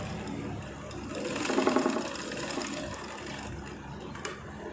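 A sewing machine stitches a size-40 bra, giving a steady mechanical whirring rattle that swells slightly midway and runs throughout at moderate loudness with no talking.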